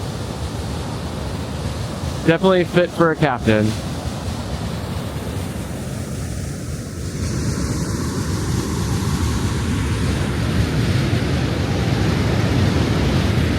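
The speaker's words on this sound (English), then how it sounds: "look at the giant rapid like movement of the water, and powerful and loud. A really beautiful waterfall." Constant roaring rush of a waterfall in Alaska fills the whole stretch, loud and steady, with someone speaking briefly near the start.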